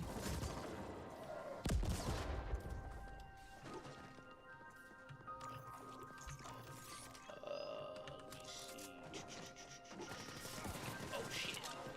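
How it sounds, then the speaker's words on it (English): Rockets fire and explode in the video game Necromunda, a loud burst of blasts early on followed by scattered thuds and booms under a busy game soundscape. "they shoot these damn rockets, man"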